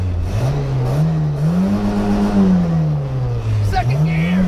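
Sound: car engine revving while shifting into second gear

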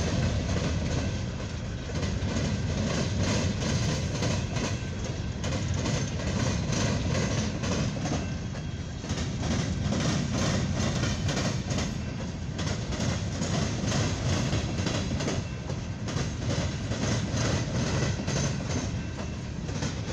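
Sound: long CSX coal hopper freight train passing

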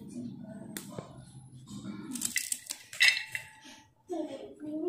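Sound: knife chopping amaranth stems finely

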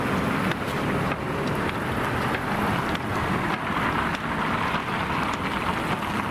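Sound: heavy car traffic on a bridge over the Ob

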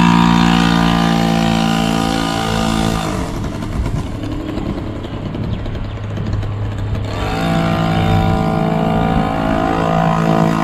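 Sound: TVS XL 50 moped engine running during ride

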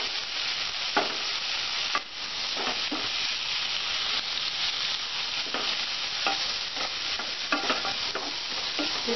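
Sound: onions frying with soaked chana dal added and stirred

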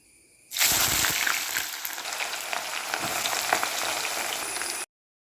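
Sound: onions frying in oil

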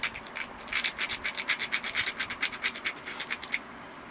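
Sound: grinding saw marks off a knapped stone slab edge

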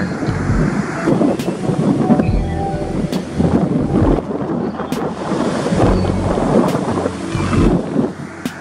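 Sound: ocean waves breaking

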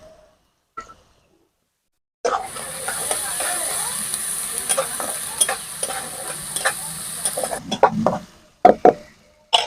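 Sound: cashews and raisins frying in oil

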